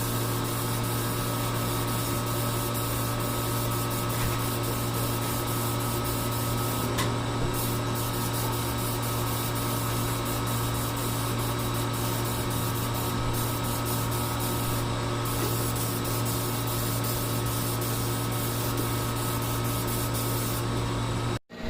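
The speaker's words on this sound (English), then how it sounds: "Then we moved on to priming each part." Primer spray painted onto Porsche 944 front lip parts, a continuous close hiss with a few short pauses in the spray, steady and loud against a low hum.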